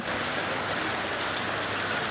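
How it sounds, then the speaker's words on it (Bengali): Heavy monsoon rain pours down in northern Bangladesh, a dense, even hiss of rainfall that stays loud and steady throughout, with no voices. "কিছুক্ষণ আগেই আমাদের এই অঞ্চলটিতে আবারও ঝুম বৃষ্টি শুরু হয়েছে"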